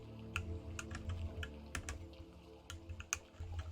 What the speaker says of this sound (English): I'm trying to use my new keyboard and it's very confusing.